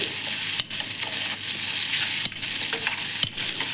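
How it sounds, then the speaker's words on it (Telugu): Thinly sliced onions fry in oil for a chicken biryani, giving a steady close sizzle with occasional stirring scrapes breaking through. No voices. "తగినంత ఆయిల్ వేసుకొని సన్నగా తరుక్కున్న ఉల్లిగడ్డలు ఎంత బాగా వేగితే టేస్ట్ అనేది అంత బాగా వస్తుంది"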